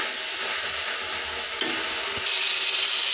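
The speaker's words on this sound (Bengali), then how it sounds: "ভালোভাবে কষাই নিব" Spice masala for chicken curry sautés in a pan, a loud, steady close-up sizzle with soft stirring scrapes throughout.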